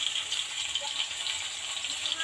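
Chilies sizzle in hot oil for a neem leaf curry, a steady dense hiss and crackle with no pause across the short stretch.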